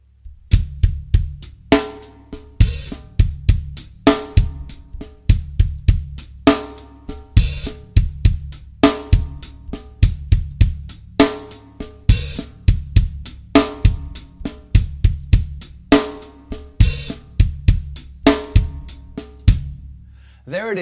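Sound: slow linear 16th-note drum groove

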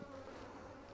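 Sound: honey bees buzzing around a hive frame

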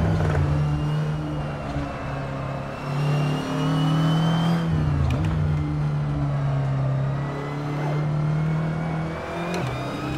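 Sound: Audi TT Cup car engine with turbo, Assetto Corsa video game

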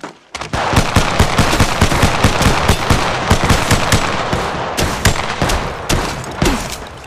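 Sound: gunfire in a shooting video game on a Google Pixel 6

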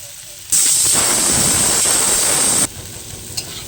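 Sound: taro, potato and fried prawns frying in a pan

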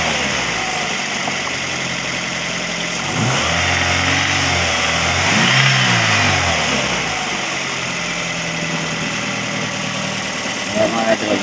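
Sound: Toyota Vios engine running and revving

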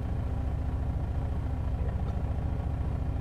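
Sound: Chevrolet Blazer engine idling in gear

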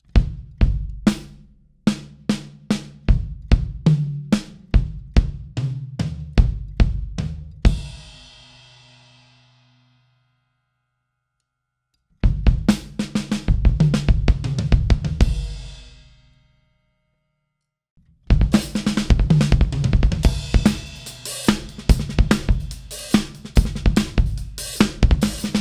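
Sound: drum kit playing a gospel chops fill

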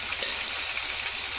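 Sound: deep-frying mutton pieces for kebab

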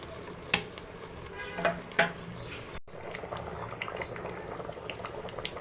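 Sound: stirring moong dal into simmering vegetables

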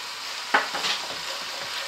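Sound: stirring bolognese risotto in a pan

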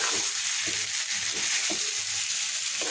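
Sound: stirring frying food in a pan

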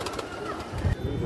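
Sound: pigeon cooing

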